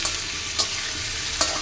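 Chicken kosha with papaya cooks in a pan with a steady, soft sizzle, and two brief scrapes of a spatula stirring it can be heard close by.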